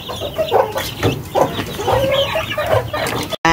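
Imported Asil chickens clucking steadily in a pen, a dense run of close, overlapping clucks and short calls with no talk over them.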